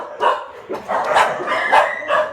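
A Bangkaew puppy gives a series of close, sharp, high-pitched yips and barks, about five short bursts in quick succession.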